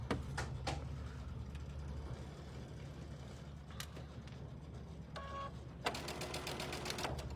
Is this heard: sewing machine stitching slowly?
yes